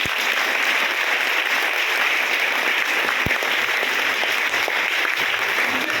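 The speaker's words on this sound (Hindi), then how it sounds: "ताली बजाएंगे प्रभु की।" A church congregation at a Palm Sunday meeting claps and applauds steadily, loud and dense throughout, with no gaps or talk over it.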